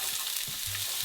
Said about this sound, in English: When your oil's nice and hot, we're going to grab the onions, pop them in for around 5 minutes just to brown off